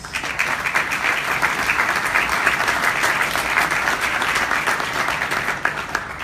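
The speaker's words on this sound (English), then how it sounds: "Please give him a round of applause." Sustained applause from a crowd, dense and steady clapping filling the whole stretch without a break.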